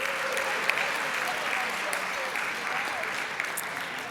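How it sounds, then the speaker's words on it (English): Audience at a Rotary club meeting clapping together, a steady even patter of applause that carries through the whole moment at moderate level. "Let's give him a round of applause."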